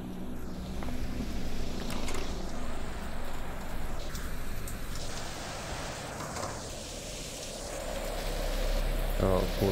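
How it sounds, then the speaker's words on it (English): Steady rain patters throughout a mission in a video game, a constant hiss with a voice talking over it. "I love missions where it's rain."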